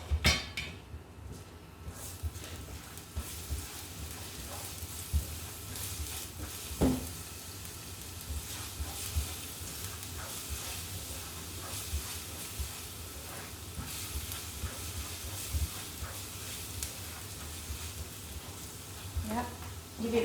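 Garlic frying in a pan, browning while being stirred, a steady broadband sizzle running throughout with occasional utensil scrapes and knocks, under intermittent background talk.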